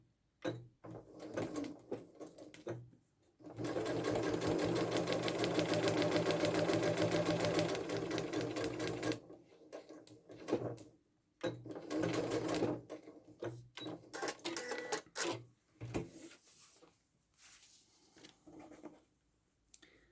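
A sewing machine runs in a steady burst for about five seconds, stitching layered quilt fabric pieces together while paper pieces remain attached, followed by quieter handling noises and short clicks of fabric and tools being moved.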